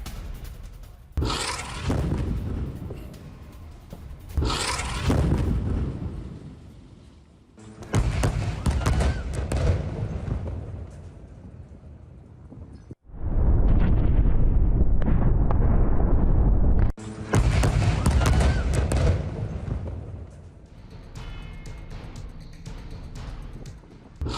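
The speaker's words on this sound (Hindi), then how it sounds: "गाजा में इजरायल का भीषण हमला, हमास के ठिकानों पर मिसाइल से अटैक किया गया है" Missile strikes hitting multistorey buildings in Gaza, heavy booming blasts and roaring rumble in several bursts, one sustained loud roar midway, with a voice talking over parts.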